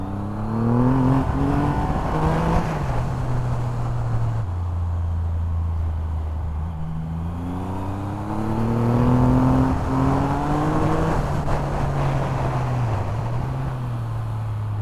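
A Triumph Rocket 3 R motorcycle engine pulls hard while riding, its deep note rising through the gears with several climbing revs and drops between shifts, loud and close.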